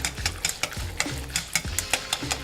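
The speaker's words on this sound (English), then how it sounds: "And we're going to whisk that up." Salt being whisked into milk in a pot for pumpkin oatmeal: a steady run of quick, rhythmic whisk strokes clicking against the pan, close and moderately loud, with no talking.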